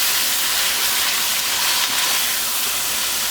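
Beef stir fry seasoned with white pepper sizzling loudly in a hot pan, a dense continuous hiss close up with no voices over it.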